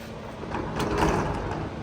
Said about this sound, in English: the coiling door is the one like this that rolls up into a coil